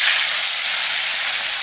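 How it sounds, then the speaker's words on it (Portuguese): Fish frying in sizzling lard over a fire at a riverbank, a steady, dense hiss that holds evenly throughout with no voices over it. "já tá chiando a banha. Vou estar jogando. Tá jogando peixe aqui no fogo já"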